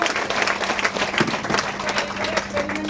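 Live audience at a Vestige DewGarden product demonstration bursts into applause, a dense steady wash of many hands clapping at close range under a low hum, with scattered crowd murmur.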